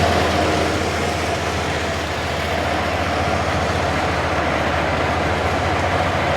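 Steady, even whoosh of the A/C blower motor running in a 1980-1996 Ford F150-series truck, a constant broadband airflow roar with no breaks or talking.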